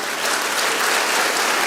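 Audience at a school event in a hall breaks into loud, sustained applause, a dense steady wash of many hands clapping with no voices standing out.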